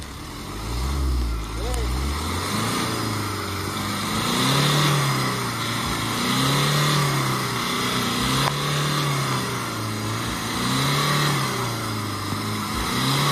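A Mahindra Marazzo stuck in mud revs its engine in long, steady surging cycles, the pitch rising and falling repeatedly while voices talk over the loud, continuous drone.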